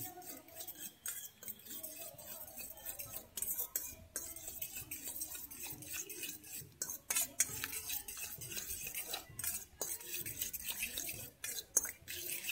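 Egg and salt being whisked in a bowl, a steady stream of fast clinking and scraping strokes against the bowl, close and continuous, no talking.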